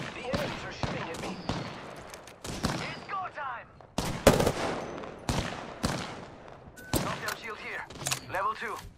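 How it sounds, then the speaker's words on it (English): Rapid bursts of video-game gunfire in Apex Legends, repeated sharp volleys and automatic shots at close range, with in-game voice lines talking between the bursts. "The enemies are shooting at me."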